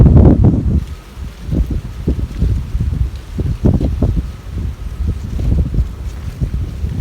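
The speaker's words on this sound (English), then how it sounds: "freaking winds picking up, blowing stuff everywhere" Gusty wind in woods, rumbling and buffeting steadily with fluctuating low-end roar and rustling, close and loud throughout, no talking.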